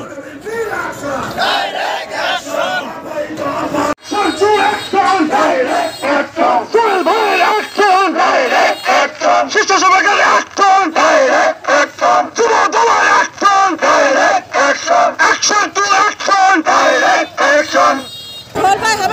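Protesters from BNP affiliate organisations on a street march, rallying against a party leader's expulsion, chant loud, rhythmic slogans in unison, call-and-response bursts repeating steadily, close and dense with the crowd's yelling throughout.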